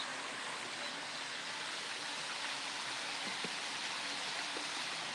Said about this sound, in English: I just hear the water.